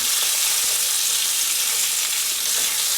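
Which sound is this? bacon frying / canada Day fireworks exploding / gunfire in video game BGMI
bacon frying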